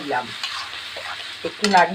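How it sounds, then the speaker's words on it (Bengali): Paneer masala paste being stirred in a hot pan, with scraping strokes of the spoon over a soft sizzle, a few distinct stirs close by with no talking. "এখন এটাকে আমি একটু নাড়িয়ে"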